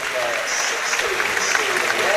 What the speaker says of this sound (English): Regan Linney gets a rapturous applause from the home fans, a standing ovation as well from some around us here in the West Stand